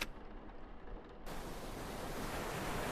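Ocean waves played from a recorded tape in the game Flathead: a soft, steady hushing wash that swells into a fuller, louder broadband roar partway through, with no talking.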